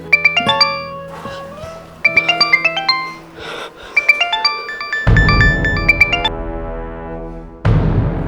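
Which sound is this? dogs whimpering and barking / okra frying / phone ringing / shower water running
phone ringing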